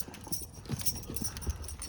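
Horses' hooves clip-clop in a loose, irregular rhythm as the herd is driven into a pen on a mare's-milk farm, fairly faint and with no talk over them.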